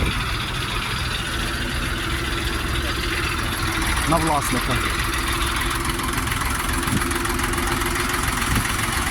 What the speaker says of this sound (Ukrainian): Тракторець прямує, власники біля тракторця.